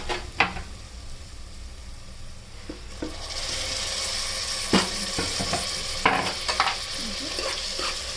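Beef curry with tomatoes frying and being stirred in a pan, Andhra style: steady close sizzling with repeated scraping stir strokes, louder in the second half, no talk.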